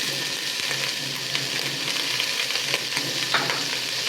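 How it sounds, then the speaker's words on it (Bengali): Chopped onions sizzling steadily in hot oil in a pan, with occasional stirring scrapes, close and continuous. "পেঁয়াজটা একটু ভাজা ভাজা করে নেব"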